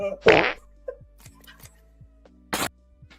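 A fart sound effect plays during a late-night livestream, with a broadband burst early on and a second short burst later, separated by faint clicks and background hum.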